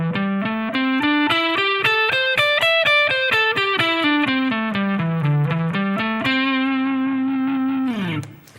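A distorted electric guitar plays a pentatonic scale, rising from the lowest note and then descending, with a steady run of single picked notes and a final sustained tone that cuts off at the end.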